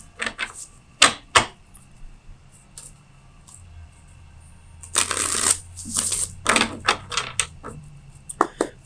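Tarot cards being shuffled in bursts of riffling and slapping, with a longer dense flurry in the middle and quieter pauses between, close and clear with no talking.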